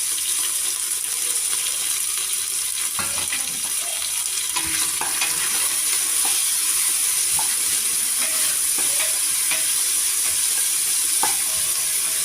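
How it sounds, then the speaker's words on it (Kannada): Ginger, garlic and tomato fry in a pan for mutton chops, a constant loud hiss of sizzling oil with scattered scraping and stirring knocks, close up and with no speech. "ಶುಂಠಿ, ಅದಾದ ನಂತರ ಬೆಳ್ಳುಳ್ಳಿ, ಅದಾದ ನಂತರ ಟೊಮೊಟೊ, ಇದಿಷ್ಟನ್ನು ಹಾಕ್ಕೊಂಡು ನಾವು ಫ್ರೈ ಮಾಡ್ಕೊಳ್ಳೋಣ."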